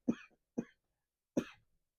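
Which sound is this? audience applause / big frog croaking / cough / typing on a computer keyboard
cough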